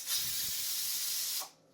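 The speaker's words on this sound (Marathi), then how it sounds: "कुकरच्या 2 शिट्ट्या करून घ्यायच्या" Pressure cooker whistling while dal, rice, turmeric, oil and salt cook inside: one loud, steady steam hiss lasting about one and a half seconds before it cuts off sharply, with no voices.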